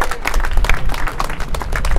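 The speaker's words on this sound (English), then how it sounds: "A round of applause for Stacy Herbert." Audience applause for Stacy Herbert at an Occupy Rupert Murdoch gathering, dense loud clapping from a nearby crowd that continues steadily throughout.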